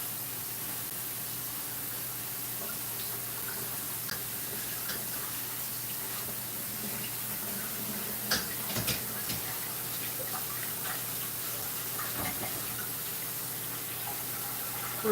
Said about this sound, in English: We're rinsing our cabbage.